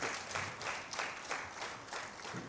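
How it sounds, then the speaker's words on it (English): Conference delegates applaud a keynote speaker in Accra, a soft, even, continuous patter of many hands at a distance, with no voices over it. "Another round of applause for him."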